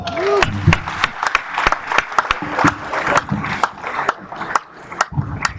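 Crowd applause at a Nigerian Society of Engineers induction ceremony in Osogbo, sharp individual claps standing out over a dense clapping bed while a voice speaks through it.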